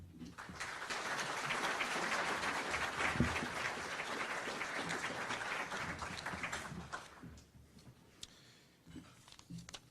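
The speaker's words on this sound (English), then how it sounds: "I want you to give everyone a warm round of applause as they come up here." Audience at a live mayoral candidates debate on housing applauds warmly for about seven seconds, a dense crowd of claps that fades into scattered claps and faint talk.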